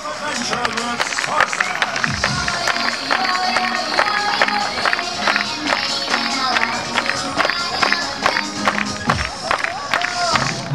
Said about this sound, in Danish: Og der må gerne klappes ind.